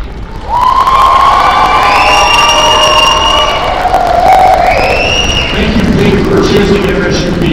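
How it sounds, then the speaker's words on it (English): A volleyball crowd cheers loudly and steadily for a departing senior player, shouts and whistles rising over continuous applause that swells and holds for several seconds. "Let's have one more round of applause for Peyton."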